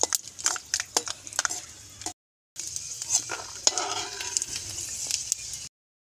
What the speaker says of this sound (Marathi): थोडे शेंगदाणे तळून घालायचे आता त्या चिवड्यात